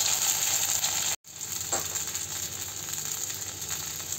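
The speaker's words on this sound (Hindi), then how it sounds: "पीठा को इसमें डालकर हम हल्का सा इसे भून लेंगे, धीरे से चलाएंगे ताकि ये टूटे नहीं" Pitha rice cakes fry in hot mustard oil with mustard seeds, a constant close sizzle and crackle, briefly cut off and then resuming as the pieces are stirred, with no talking.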